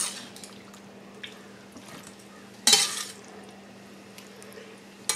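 Drained yellow summer squash spooned into a casserole dish, quiet wet scraping and stirring, then one sharp spoon-on-dish clatter midway and another small knock at the end, close up in a quiet kitchen.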